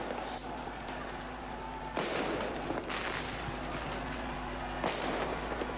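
Ceremonial cannon salute fired at a presidential inauguration in Senegal: a few heavy booming shots, spaced about a second or two apart, ring out at a distance over a steady crowd and outdoor background.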